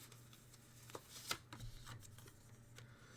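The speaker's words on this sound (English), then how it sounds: "Let's draw 4 oracle cards" Oracle cards being shuffled and drawn, a few soft papery flicks and one sharper snap near the middle, quiet and close with faint background hum.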